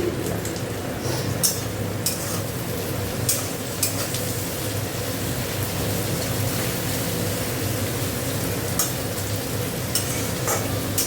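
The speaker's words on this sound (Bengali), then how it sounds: "পেঁয়াজটা একটু ভাজা হোক, একটু নুন দিয়ে দেবো, দিলে তাড়াতাড়ি ভাজাটা হয়ে যাবে" Onions with a pinch of salt fry in a pan, giving a steady, close crackling sizzle throughout with faint stirring scrapes and no talk.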